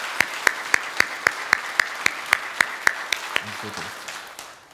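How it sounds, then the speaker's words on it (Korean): Church congregation at a Sunday worship service clapping to welcome a visiting missionary family from Peru: a run of crisp, evenly spaced claps in a steady rhythm that thin out and fade into a low murmur. "박수로 환영하도록 하겠습니다"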